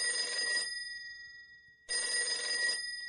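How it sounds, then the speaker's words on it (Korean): An old telephone bell rings in two bursts with a pause between, each a bright, rapidly trilling ring about half a second to a second long, clear and fairly close. "경제기획원 김학렬 기획관리실장의 방으로 한 통의 전화가 걸려왔다."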